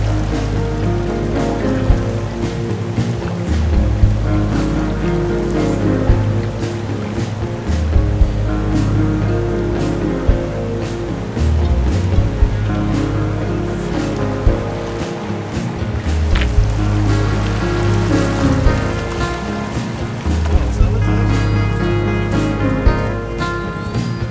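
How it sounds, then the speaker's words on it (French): A canoe travels down a low river toward a camp on the Miramichi, with water washing and lapping continuously at close range and occasional knocks from the hull or paddle. "On va descendre la rivière jusqu'au camp."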